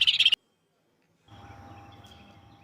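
A bird call from a children's animal cartoon, a short bright chirping burst at the start, then silence, followed by a softer sustained tone over a low rumbling background.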